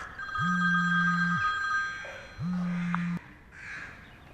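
A telephone rings in a comedy series scene, with two electronic ringing bursts separated by a short pause and heard clearly with no talking over them.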